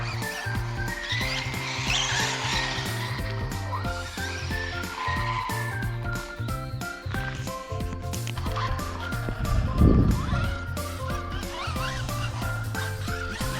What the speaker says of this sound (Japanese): タイヤがちょっと湿ってるから滑るか